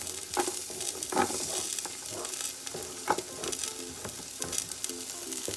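Onions fry in a pan for mixed fried rice, a constant close sizzle broken by repeated stirring scrapes and clinks, with no voices.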